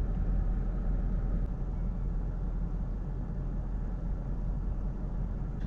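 A 2019 Ford Mustang GT V8 settles to a low idle around 600 rpm, a steady deep rumble with an even, unbroken drone, heard close and alone.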